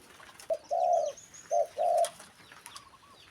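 A pigeon or dove coos in short rounded phrases, two pairs of clear, fairly loud calls close by, followed by faint chirps in a quiet outdoor setting.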